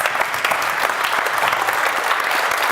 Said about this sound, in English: Please join me, everyone, in standing and giving Justin a round of applause.